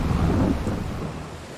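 Rain and rolling thunder in the farming game Farming Simulator 22, a loud, dense downpour with a deep rumble that swells early and then eases off slightly, with no voices.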